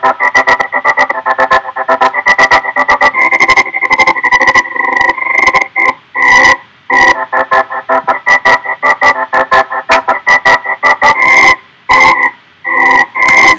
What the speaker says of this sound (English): I love the stutter effect so far.